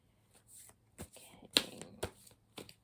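Tarot cards are shuffled by hand in a quick series of crisp riffling bursts and soft flutters, close and fairly quiet.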